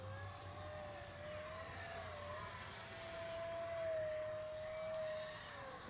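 An RC Viper 50mm EDF jet whines steadily overhead while flying a loop, its ducted-fan pitch rising and falling with distance, heard alone and fairly faint.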